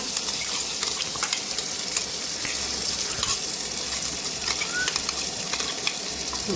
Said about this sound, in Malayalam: പുളിവെള്ളം ഒഴിച്ചിട്ട് ഇതാക്കാവേ